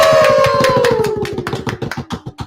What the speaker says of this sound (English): And we have the next round of applause to Irwin Fua.